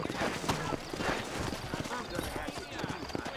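Hooves clip-clop in a steady walking rhythm from horses in the Red Dead Redemption video game, close and moderately loud, with someone speaking over the hoofbeats.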